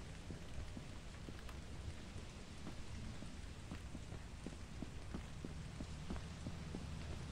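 Distant thunder in the horror video game Lethal Company, a continuous low rumble under a rain-like hiss with faint scattered ticks, steady and far off.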